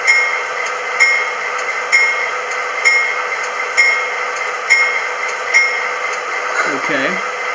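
A small electronic bell on an MTH Union Pacific Dash 9 model diesel locomotive rings repeatedly in a steady rhythm, about once a second, over a constant motor hum. A brief low rumble comes near the end.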